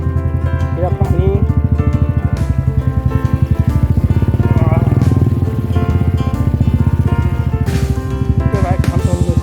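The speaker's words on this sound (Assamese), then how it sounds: "বাইকখন তল গৈছে।" A motorcycle rides over a rough, uneven road, its engine giving a steady close drone throughout, with a person talking over it.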